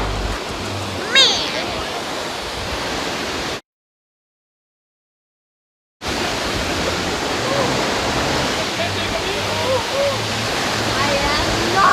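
The Rhine Falls in Switzerland, Europe's largest and most powerful waterfall, roaring as a dense, steady wash of broadband noise heard up close, with a brief gap of silence midway and occasional voices faint beneath it.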